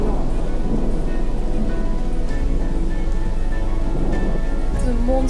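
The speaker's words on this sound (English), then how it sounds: "The monster thunderstorm." Heavy thunderstorm rain pours steadily during a derecho wind storm, a loud unbroken roar with deep rolling thunder rumbling beneath it the whole time.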